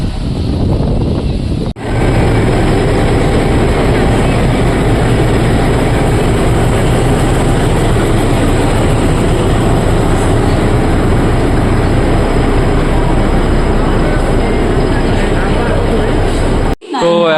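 Steady loud rumble of the 02839 Shalimar–Puri weekly superfast special train in motion, a continuous dense roar with rattling throughout, briefly cut at the start and end.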